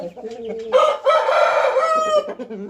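A single loud, close rooster crow rings out, preceded and followed by softer clucking.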